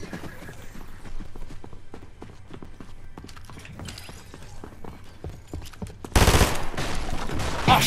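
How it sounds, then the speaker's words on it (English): Rapid gunfire from an automated sentry gun in a shooter video game, a dense burst that swells loudly toward the end over faint clicking and game noise. "Oh, sentry gun."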